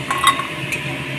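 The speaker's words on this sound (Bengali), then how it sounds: "এইবার আমি এক এক করে এই আলুগুলোকে ছেঁকে তেলের থেকে ছেঁকে ছেঁকে তুলে রাখবো" Fried potatoes lifted one by one out of hot oil with a metal utensil in a home kitchen, giving a few light clinks and scrapes against the pan over a faint sizzle.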